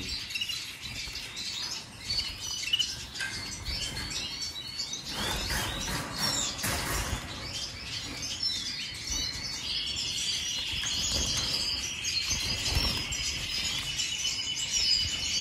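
Caged canaries of harlequin, red, copper, agate, green and white varieties sing and chirp continuously, with bright overlapping trills and tweets at moderate volume and a few brief clatters from the cage.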